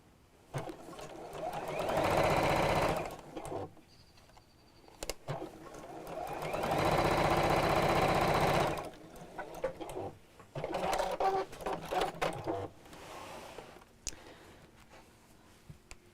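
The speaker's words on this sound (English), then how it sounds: "then we'll just sew that on the machine to close it." A sewing machine stitches a bag's turning gap closed in several bursts of steady whirring, with quiet pauses between runs and faint bird clucks in the background.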